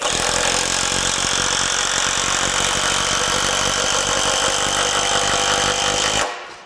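A Metabo HPT 18V brushless impact driver on a 2 amp-hour battery whirs steadily at a loud, constant pitch for several seconds, then cuts off abruptly near the end.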